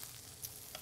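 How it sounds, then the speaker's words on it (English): Mushrooms and vegetables sauté in a pan, giving a faint, steady sizzle with soft stirring clicks, brief and alone. "we'll saute these for another couple minutes just to soften up the mushrooms"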